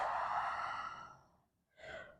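A long, soft exhaled breath during a yoga flow, close and steady, fading out before a second, shorter breath follows.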